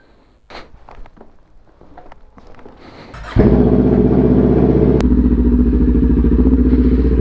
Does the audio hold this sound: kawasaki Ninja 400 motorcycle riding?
yes